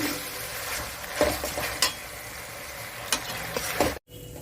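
An onion, ginger, garlic and green chilli paste sautés over medium flame with a steady sizzle, punctuated by several sharp spatula scrapes against the pan before cutting off abruptly.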